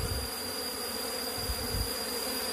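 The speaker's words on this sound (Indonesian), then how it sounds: "agak-agak ribut di koloni lebahnya" A honeybee colony buzzes continuously, a dense agitated hum with a few low thumps, steady and close.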